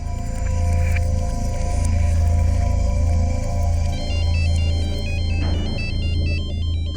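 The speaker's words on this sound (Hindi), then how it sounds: "अरे तो मेरे मोबाइल से फोन आ रहा है।" A mobile phone ringtone plays loudly and continuously, a repeating electronic melody that shifts to a higher, choppier pattern partway through, with a steady low hum underneath and no talking.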